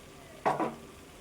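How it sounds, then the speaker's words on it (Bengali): Potatoes and cauliflower tipped into a pan of frying spice paste give a short, sharp sizzle and stirring burst of under a second, close up, then fade to quiet. "এইবার এই আলু আর ফুলকপিগুলো দিয়ে দেব।"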